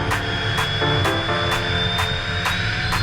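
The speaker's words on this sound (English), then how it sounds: "Takeoff thrust, engine's good" A Cirrus Vision SF50 single-engine personal jet rolls for takeoff on runway 9 at Duluth, its engine roaring loud and steady from inside the cabin with a rising whine and a regular pulsing thump.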